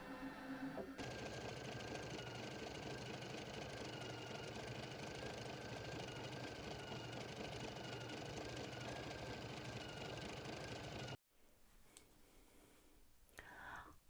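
An embroidery machine stitches out a Jacobean Tree of Life design with a fast, steady mechanical whir for about eleven seconds. It then stops abruptly, leaving faint room noise.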